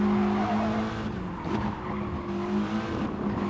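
A Group 4 race car in Gran Turismo Sport at the Nürburgring GP circuit downshifts into a left-hand corner, its engine droning steadily with brief tire squeal, loud and continuous throughout.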